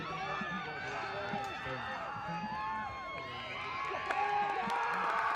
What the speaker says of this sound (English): You could hear the crowd on the other sideline obviously cheering for Loyola, the local crowd.